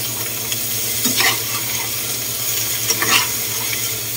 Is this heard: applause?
no